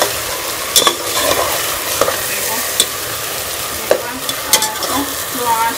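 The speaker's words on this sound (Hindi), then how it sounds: "इसके अंदर किशमिश और ये नारियल भी मैं डाल दूंगी। इसको मिक्स कर लेंगे।" Grated potato zarda with raisins and coconut is stirred in a pan with a spoon, producing a soft sizzle and scraping under a few sharp clinks of the utensil against the pan.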